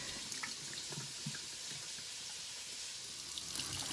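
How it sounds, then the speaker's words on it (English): Water poured out of a bowl of rinsed dry beans into a kitchen sink, a steady, faint splashing stream with a few soft drips, no voices over it. "I'm going to take all the water out."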